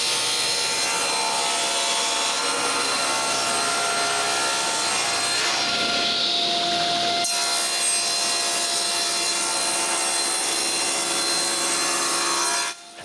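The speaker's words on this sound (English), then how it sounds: "When the glue is dry, it's time to cut all this to the right height." Handsaw cutting through the wooden edging of a closed bookcase to trim it to height, steady back-and-forth strokes running loud and close for most of the time, with a brief pause midway before sawing resumes.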